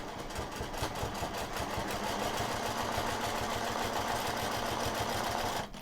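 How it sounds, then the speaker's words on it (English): Sewing machine quilting a straight line along a ruler, a fast steady mechanical rattle of needle strokes running close and continuous for several seconds before stopping abruptly at the end. "So let's quilt that first line."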